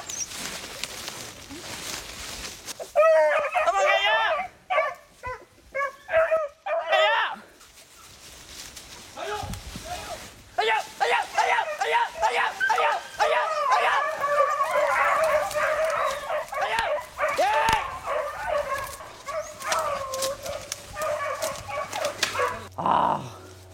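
Hunting dogs bay and yelp at a wild rabbit's burrow in rapid, overlapping bursts that build into a sustained chorus of excited barking nearby, with a steady background hum underneath.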